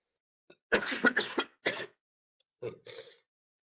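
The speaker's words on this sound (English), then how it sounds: "I need a good cough that is not coming." A few short, rough throat-clearing coughs close by, in two clusters with a brief pause between them.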